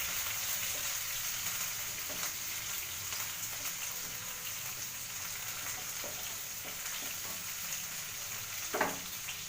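Onions, green chillies and peanuts fry in a pan with a steady, soft sizzle throughout, broken by a few faint stirring clicks and one brief louder scrape near the end.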